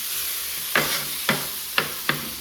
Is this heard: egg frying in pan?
yes